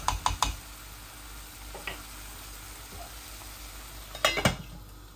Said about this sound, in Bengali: আর একটু আলুটা ভাজা হোক।